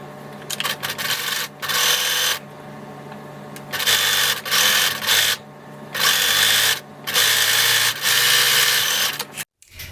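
Sewing machine stitching rickrack trim onto a fleece blanket, running in several steady whirring bursts separated by short pauses, close and clear.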